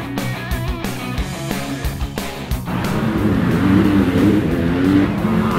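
A modified 4x4 truck crawls up a prefabricated concrete rock at a regional off-road competition. The engine knocks unevenly at first, then settles into a louder, sustained labouring rumble as the truck climbs.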